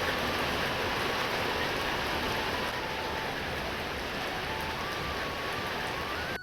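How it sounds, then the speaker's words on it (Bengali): Heavy afternoon rain pours down in a dense, steady roar of drops on surfaces, loud and unbroken throughout. "দুপুর হতেই ঝমঝম করে বৃষ্টি পড়া শুরু হলো।"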